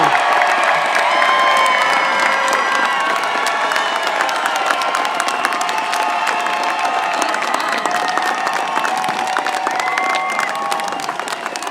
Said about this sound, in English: please turn and give a round of enthusiastic applause to all of those who supported you